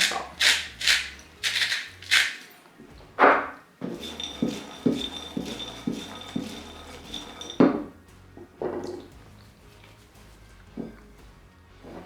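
Roasted chickpeas tossed with chili powder and salt clatter and clink against a bowl in a run of quick, close scraping and rattling strokes, busier at first and then easing into lighter stirring.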